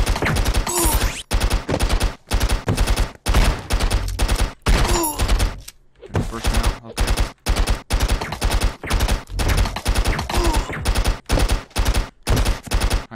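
Rapid automatic AK rifle fire in the stick-figure shooter Stick Arena Dimensions, loud sustained bursts separated by brief pauses, with one longer gap near the middle.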